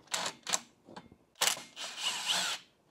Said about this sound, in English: I'm going to hit it with the impact.